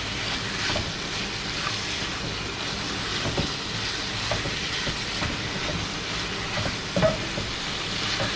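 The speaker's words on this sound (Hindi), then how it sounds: "अब मैं इसको फिर अच्छी तरीके से मिक्स कर दूँगा।" Spices being stirred into sizzling chicken jalfrezi in a pan, a continuous crackling fry with scraping stirs throughout and no talking.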